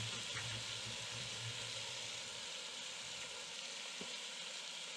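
Chopped onion and cubed potatoes frying in a pot for corn chowder give off a soft, steady sizzle and hiss, fairly quiet and even, with a low hum fading partway through.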